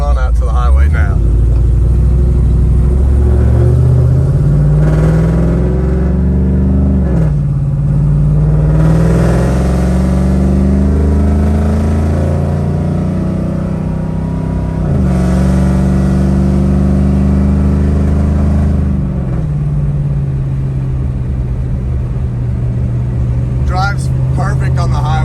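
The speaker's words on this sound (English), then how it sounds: "pulling on out to the highway now" A 500 hp Pontiac WS6 pulls out onto a highway, its engine rumbling loud and steady from inside the car, the pitch climbing through several gear-shift sweeps, with a voice talking over it throughout.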